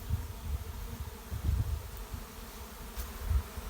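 A honey bee swarm pouring out of cracks in hive boxes and lifting into the air makes a dense, steady low buzzing hum with swelling pulses, heard close and continuous with no voices.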